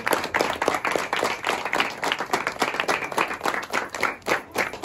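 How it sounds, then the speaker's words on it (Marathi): An audience claps at a Maghi Ganesh Jayanti celebration to honour its long-serving president and vice-president. The applause is dense, steady and loud, and continues throughout without speech. "एकदा त्यांच्यासाठी टाळ्या आणून जाऊ."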